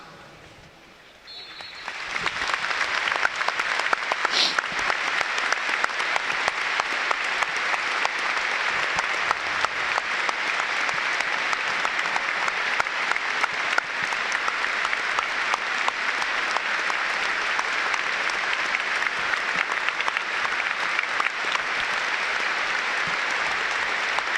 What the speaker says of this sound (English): There'll now be a moment's applause.